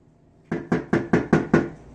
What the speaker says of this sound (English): Oh, there's a knock at the door, y'all.